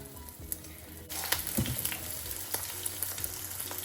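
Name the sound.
liver fritter batter frying in oil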